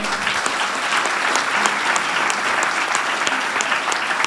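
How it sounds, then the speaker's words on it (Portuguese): Sustained applause from a lecture audience, steady dense clapping filling the whole stretch without pause. "não merece salva de palmas, não?"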